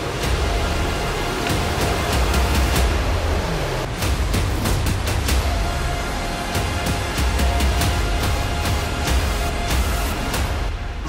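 The highest waterfall at Campo Tures rushes in a broad, constant roar of falling water, loud and steady throughout, with a few faint clicks and taps over it.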